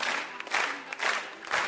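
Wedding guests at a Kazakh-speaking celebration applaud two mothers, with dense bursts of clapping and crowd noise rising and falling in waves across the room.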